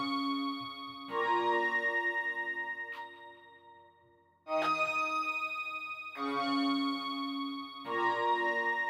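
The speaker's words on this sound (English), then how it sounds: "the intro is just this anasynth patch" A Plux Anasynth preset called Celestial Moans plays on its own, held harmonic synth chords swelling in and out in several sustained phrases with brief gaps between them, loud and close with no voices.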